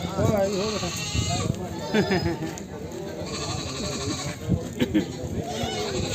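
A goat bleats a few times close by at a goat market, its wavering cries mixed in with people talking nearby.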